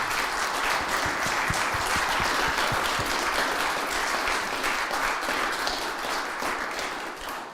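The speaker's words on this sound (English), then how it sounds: "give a round of applause to Jane and Gail for all of their work on this" Members at an annual meeting applaud Jane and Gail for their work, a full, even wash of clapping from a sizable room, with a few distinct close claps early on, gradually thinning toward the end.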